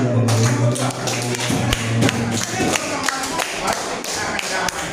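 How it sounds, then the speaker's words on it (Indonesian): A classroom of students clapping hands together in a burst of dense, fairly loud claps, with some thumps and murmuring among them. "Tepuk tangan."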